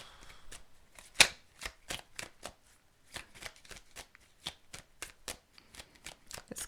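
Tarot cards shuffled for a reading: a series of soft, crisp riffling slaps at an uneven rhythm, close and fairly quiet, with one sharper snap near the start.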